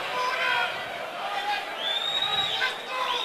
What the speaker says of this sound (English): The crowd is loving this fight right now.